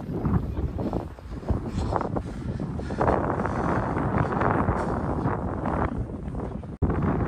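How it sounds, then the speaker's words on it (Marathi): A sudden strong wind storm near a lighthouse garden in Plymouth, with loud, continuous gusts roaring and buffeting the microphone and a brief drop near the end. "आता अचानक वारा आणि वादळ दोन्ही चालू झाले आहेत"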